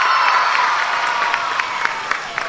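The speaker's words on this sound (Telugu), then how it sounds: "గట్టిగా చప్పట్లు కొట్టి అభినందించండి." Audience applause for a student at an event with the Chief Minister, with steady, dense clapping and light cheering held throughout, loud and close, with a few sharper claps standing out.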